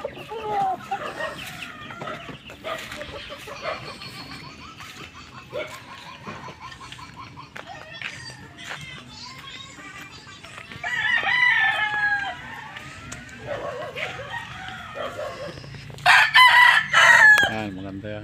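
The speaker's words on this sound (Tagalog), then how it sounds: "Ito yung mga sisiw, may sisiw yan dyan sa loob." Chickens cluck and chicks peep close by in a farmyard, with a rooster crowing loudly several times near the end, and a person talks briefly amid the fowl.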